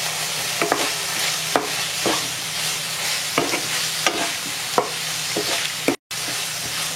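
A chicken and mushroom filling with coriander sizzles steadily in a pan while a utensil scrapes and clacks against it in irregular stirring strokes, close and clear, with a brief dropout near the end.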